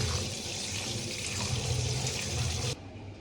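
Running water pours steadily over tiny foxtail millet grains being washed for payesh, a close, continuous splashing hiss that cuts off abruptly near the end.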